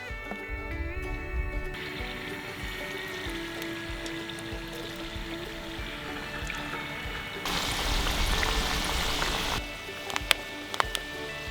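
Canola oil poured into a pan at an island camp cookout before frying potatoes and walleye, a steady outdoor hiss and trickle that swells into a thicker pour for a couple of seconds near the end.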